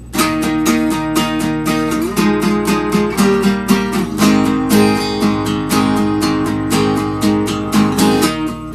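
Two guitars strum together through the bridge of a song, bright and close, with steady driving strokes and a chord change midway, no voices over them.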